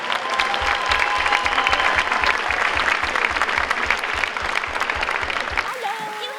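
A large audience at a National Philanthropy Day event claps steadily to welcome two speakers to the stage, a dense, sustained wash of applause that stops abruptly before a voice begins.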